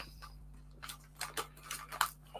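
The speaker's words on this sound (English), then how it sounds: "Scissors." Scissors snip plastic parts from a model kit sprue for a DS Models Eddie Stobart truck build, several faint, close clicks in an irregular rhythm over a quiet hum.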